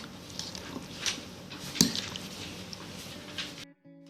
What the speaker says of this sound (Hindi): अच्छी तरह से इन सारी चीज़ों को भी हम मिक्स कर लेंगे।